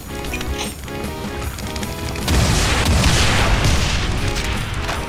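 Rocket launcher explosions in the video game Final Doom: a loud, dense burst of booming blasts erupts midway and rumbles on continuously over the game's background music.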